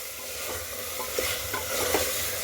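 Mushroom masala being stirred in a pressure cooker just after garam masala goes in, with a steady close sizzle and a few soft spoon scrapes over about two seconds, no talking.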